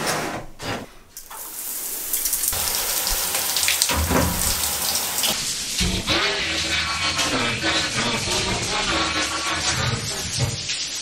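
Shower water runs in a steady, loud hiss and splatter, starting after a brief muffled moment and continuing uninterrupted, close by in a bathroom.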